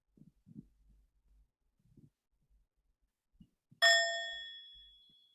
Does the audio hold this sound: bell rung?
yes